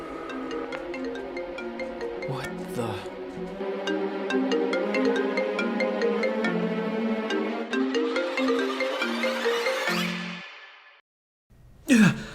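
A phone rings with an incoming call, a melodic ringtone that plays for several seconds, cuts off, then ends with a short vocal sound.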